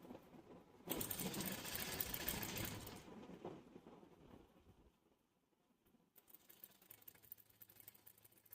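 A sewing machine stitches along the folded edge of a fabric piece, running in a dense mechanical whir for about two seconds, then slowing and stopping before a fainter second run starts near the end.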